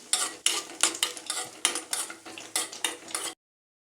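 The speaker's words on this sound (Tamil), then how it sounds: "முந்திரி திராட்சை நம்ம இதெல்லாம் சேர்த்து நெய்யில் ஒரு தட்டு போட்டுடுவோம்" Cashews and raisins fry in ghee in a pan with a soft sizzle while a utensil scrapes and stirs in repeated strokes, close and fairly quiet.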